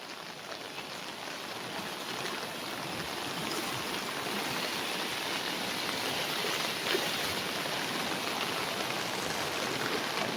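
Heavy monsoon rain in Konkan sends flood water rushing off the fields into a swollen river, a steady, dense roar of churning water that builds slightly and continues without pause.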